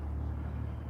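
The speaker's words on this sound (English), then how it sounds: "You can just hear the cars on the road." Steady low traffic rumble from cars on a nearby road, distant and continuous with no distinct pass-by, heard in a quiet outdoor setting.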